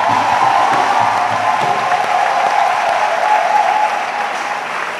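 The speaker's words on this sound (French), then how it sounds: "Acclamons le Seigneur Jésus-Christ" A church congregation claps together in a long, loud burst of applause that fades slightly toward the end. The clapping is dense and steady, with faint crowd voices underneath.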